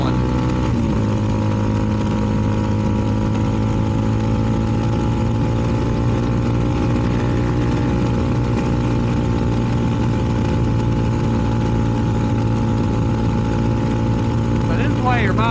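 A CFMoto 300NK motorcycle fitted with a KO aftermarket exhaust, ridden two-up on the way home, drones loud and close with a steady, throaty engine note that holds an even pitch throughout.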